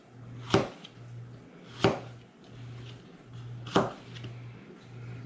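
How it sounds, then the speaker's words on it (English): A knife cuts a browned piece out of a meatloaf, producing three sharp, separate chopping thuds against a board at roughly even intervals over a low steady hum, close and fairly loud. "Now we have to cut this piece out because of the browning."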